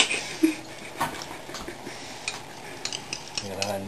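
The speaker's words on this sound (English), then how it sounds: "Now you mix all this up until it's of a consistency for dipping your pakora" A teaspoon stirs chilli dipping sauce for vegetable pakora in a bowl, giving faint scattered clinks and scrapes in a quiet kitchen with a little background noise.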